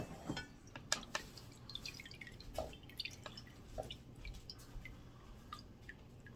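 Fire cider drips from a nut bag being squeezed with a spatula, scattered close wet drips and squishes landing irregularly in a quiet room.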